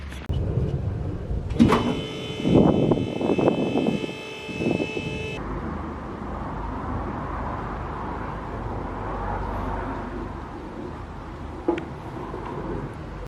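A car lift raises a car, starting with a few clunks and then a whirring motor whine that cuts off, followed by a quieter hum and a single later knock.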